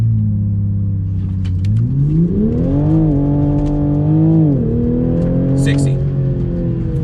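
A new Toyota Supra's engine is floored against the brake. It starts with a deep drone, climbs in pitch to a loud sustained rev, holds there, then dips and settles.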